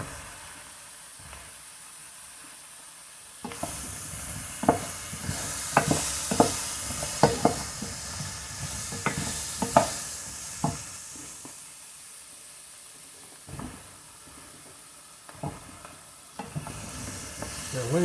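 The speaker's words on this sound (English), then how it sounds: "I always kind of just stir it around so just a little, they kind of get a" Yellow squash sizzles in hot oil in a pan, with a spoon scraping and stirring in bursts over the continuous frying hiss, close by.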